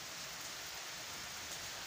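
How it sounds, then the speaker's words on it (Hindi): Steady, even rain falls in the mountains as a soft continuous hiss with no talking. "अचानक से बारिश आई, मौसम भयंकर बन गया।"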